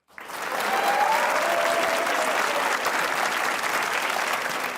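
Studio audience applause on a Pakistani comedy talk show, a steady, dense wash of clapping that starts abruptly and holds at full strength throughout, with no talk over it.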